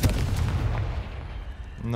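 Confringo fire spell going off in Hogwarts Legacy on PS5, a loud booming blast with rumbling low end that sustains for about two seconds, ending in a second burst.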